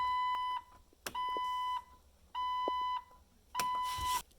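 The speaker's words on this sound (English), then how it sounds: "I'm reminded by the annoying beep and the flashing light symbol." A car's lights-left-on warning chime sounding in four evenly spaced, steady electronic beeps, each about half a second long, close and clear with quiet gaps between.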